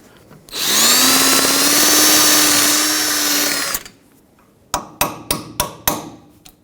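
A power drill runs loudly for a few seconds on a 2009-2011 Ford F-150 rear backing plate rivet and cuts out, followed after a pause by five sharp, evenly spaced hammer blows punching the rivet out.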